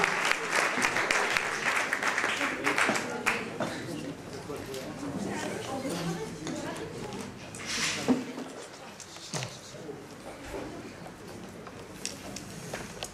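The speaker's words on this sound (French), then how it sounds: "Et donc je vais accueillir tout de suite Max, sous vos applaudissements." A café-theatre crowd applauds to welcome a comedian onto the stage, moderately loud clapping that rises and falls over about thirteen seconds, with some chatter mixed in.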